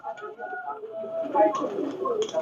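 A Pakistani Batera pigeon from an imported bloodline coos in soft, low, rolling calls close by, mixed with faint rustling and other bird sounds.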